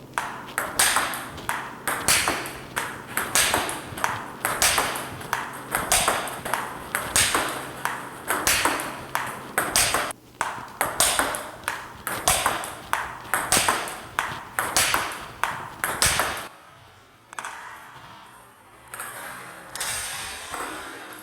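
A table tennis ball is struck with repeated penholder backhand smashes, giving sharp, loud cracks in a steady rally rhythm for about sixteen seconds before the hits become fainter.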